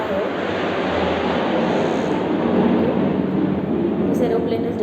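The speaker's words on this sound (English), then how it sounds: "this aeroplane is disturbing a lot" Outside during an outdoor science lesson, an airplane passing overhead gives a steady broad engine roar that fills the whole stretch at a constant moderate level, with no clear speech over it.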